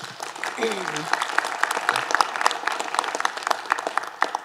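Steady applause from an audience, a dense patter of many hands clapping throughout, with a brief voice near the start.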